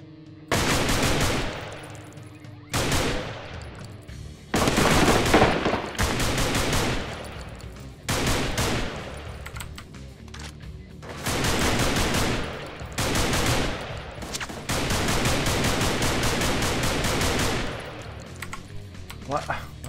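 Bursts of video-game gunfire from The Apartment psychological thriller, several loud volleys of rapid shots separated by short pauses, with faint talk underneath.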